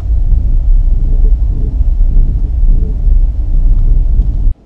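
A car's front suspension strut mounts creak and knock as the steering wheel is turned, heard as a loud, steady low rumble with irregular thumps that continues for about four and a half seconds, then cuts off abruptly.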